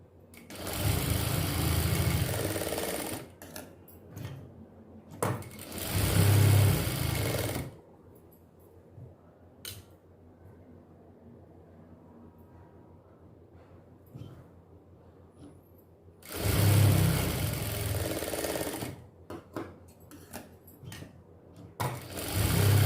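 Sewing machine stitching the pieces of a miniature doll dress together, running in two long loud bursts separated by a quiet pause with faint handling clicks, then starting again near the end.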